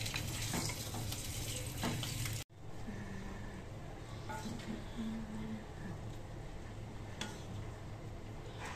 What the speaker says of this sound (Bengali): ডিম দিয়ে আলু বোনা করবো